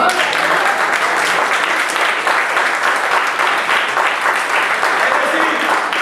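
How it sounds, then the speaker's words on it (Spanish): A church congregation at an evangelical service in Miami applauds loudly and continuously, a dense wash of clapping that holds for the whole stretch, with some voices mixed in. "Un aplauso al Señor."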